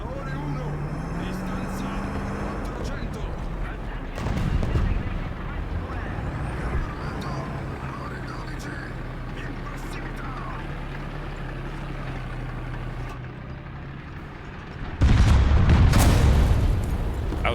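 Tank cannon fire in War Thunder's light tank combat, a loud booming blast near the end over steady engine rumble, with a softer thud earlier; people talk through much of it.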